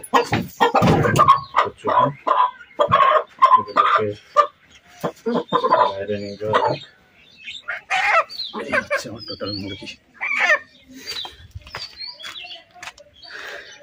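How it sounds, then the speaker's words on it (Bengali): Chickens being weighed on a home poultry setup give loud, close clucks and squawks in irregular bursts over nearly fourteen seconds, with short pauses between outbursts. "এই হচ্ছে টোটাল মুরগি"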